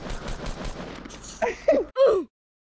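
Rapid gunfire bursts from a Fortnite Battle Royale match rattle loudly in the first second, then give way to excited shouting voices.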